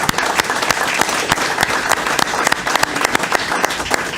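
A crowd applauds at a town council meeting in Enfield, Connecticut, with steady, dense clapping filling the room for several seconds at a moderate distance.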